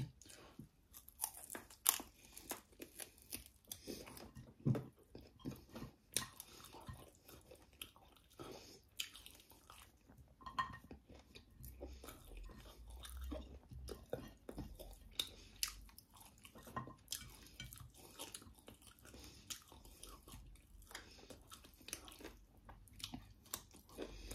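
A person eating rice with home-cooked chicken curry, close-up moist chewing and smacking with soft squelches and occasional crunchy bites in an irregular rhythm, faint and intimate, with no talking.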